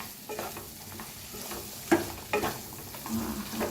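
Peanut powder being stirred into chillies frying in oil: a continuous sizzle with repeated scraping strokes of a spoon, close by and moderately loud.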